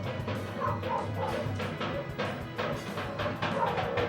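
Dogs barking in the Final Fantasy X video game, repeated yips and barks mixed with drums and game music, moderately loud throughout.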